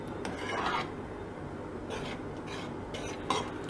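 A thickening mixture is stirred constantly in a cooking pan, a spoon rasping and scraping steadily across the base in a close, continuous rhythm, with a few brighter scrapes standing out and no talking.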